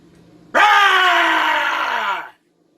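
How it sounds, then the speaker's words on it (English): A loud, sustained howling yell attributed to a Bigfoot, about 100 feet away in the woods, rising abruptly and holding for nearly two seconds before cutting off, heard alone. "it started and it resumed its yelling again"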